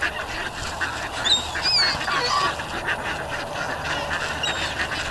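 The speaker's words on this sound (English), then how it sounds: "You got a couple of really big, big ducks on you." Several large ducks quack and call near the camera while someone feeds them, with scattered honk-like cries over steady outdoor background noise.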